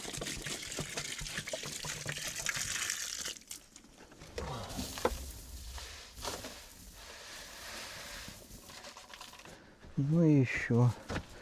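Water runs into a bucket filled from a tap outdoors on a calm day, a steady splashing wash for the first few seconds that then fades into quieter trickling with background noise and a burst of louder sound near the end.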